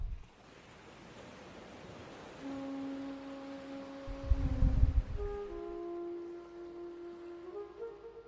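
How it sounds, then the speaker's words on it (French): Ocean waves wash in and out with a soft, broad surf rush that swells and recedes. Low sustained tones and a deeper rumbling surge in the middle sit under it. "en vous synchronisant sur le flux et le reflux des vagues"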